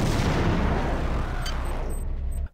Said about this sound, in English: I show off what the grenade launcher is capable of.